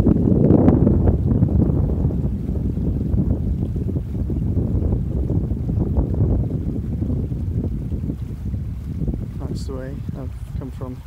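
Strong wind buffets the microphone beside the River Naver, a loud gusty roar that is heaviest at the start and eases slightly, with a voice briefly audible near the end.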